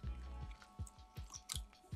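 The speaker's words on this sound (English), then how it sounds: "You really can chew them for so long." Close, quiet chewing of a passion fruit chewy sweet, with rhythmic wet bites and squishes repeating roughly every quarter second and no talk.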